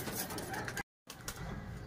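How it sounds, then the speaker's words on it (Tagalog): A dirty blue bar racing pigeon arrives at the loft during a summer training race, with soft cooing and rustling close by and a short full silence midway. "Ito na yung pang-apat nating ibon. Yung dirty blue bar."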